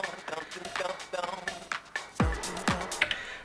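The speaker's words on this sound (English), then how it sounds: "a lo-fi effect on the vocal." Vocal run through a lo-fi effect on an Elektron Octatrack: gritty, degraded chopped voice phrases over rhythmic beat hits and a couple of descending swoops, loud and dense.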